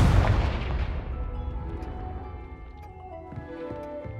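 Confringo blasting spell in Hogwarts Legacy going off as a single loud boom that decays into a long rumbling tail, with faint crackles later on.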